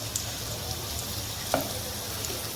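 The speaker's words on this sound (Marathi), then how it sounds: "एकदम मंद आचेवर असं क्रिस्पी तळायचं" Homemade samosas deep-fry in lukewarm oil over a very low flame, giving a soft, even bubbling crackle that runs unbroken throughout, with one small pop midway.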